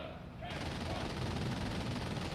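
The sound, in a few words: half-track gunfire in a video game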